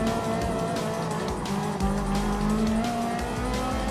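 A Ferrari 458 Italia Gr.4 race car in Gran Turismo Sport keeps a loud, continuous engine drone with shifting pitch and faint tire squeal as it closes in to overtake.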